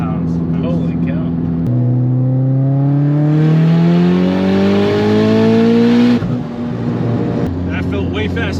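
A turbocharged 2013 Mitsubishi EVO X with a bigger turbo accelerates hard through the gears, engine pitch climbing steadily in a long loud pull, then dropping at a shift, heard from inside the car.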